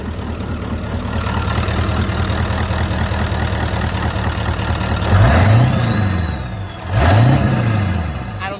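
A 1996 Ford F-250 with a 7.3L diesel and straight-piped exhaust idles with a steady low rumble, then revs twice in quick succession, each rev swelling louder before dropping back to idle.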